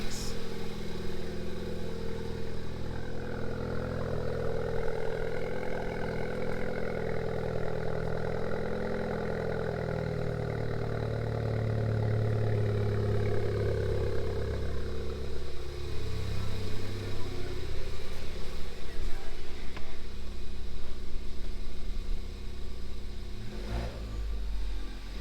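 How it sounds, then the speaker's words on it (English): Rebuilt Ford Fiesta ST engine idles after its first proper startup, a steady close drone whose pitch shifts and swells slightly midway before settling, with no talk. "the motor sounds great and the car sounds amazing"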